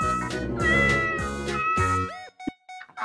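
A loud, close cat meows in a run of drawn-out, wavering yowls, followed by a few shorter, fainter mews trailing off at the end, heard alone with no talking.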